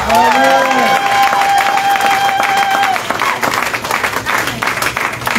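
A church congregation bursts into loud applause and cheering for the Lord after a French-language sermon, steady clapping filling the room while a voice rises over it at first.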